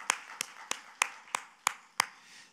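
At a church service, seven sharp, evenly spaced claps ring out close and distinct, a steady rhythmic pattern rather than a crowd's wash.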